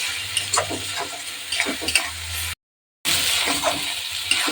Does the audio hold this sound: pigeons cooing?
no